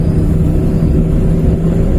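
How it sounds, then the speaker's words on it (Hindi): A Maruti 800 car's small engine drones loudly and steadily from inside the cabin while accelerating uphill to overtake a scooter, with a constant low hum and no speech. "अब मैं इससे ओवरटेक कर रहा हूँ"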